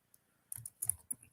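Someone types on a computer keyboard, with a few quiet, close key clicks landing in short irregular bursts.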